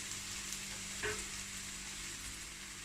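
Cleaned prawns going into a pan of masala for idiyappam prawn biriyani and being stirred, giving a soft, even sizzle with one brief scrape of the spoon partway through.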